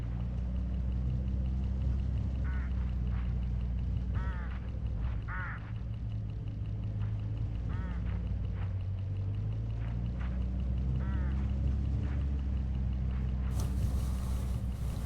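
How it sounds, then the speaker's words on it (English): Hooded crows calling along a road in the Hitchhiker video game, several short harsh caws spaced out over a steady low engine rumble. "Look, hooded crows all along this road."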